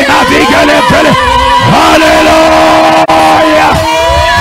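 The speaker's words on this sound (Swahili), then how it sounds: "Weka shangwe na vigelegele." A church congregation cheering and ululating, with many high, warbling trills and whoops rising and falling together in a loud, lively burst, close and continuous.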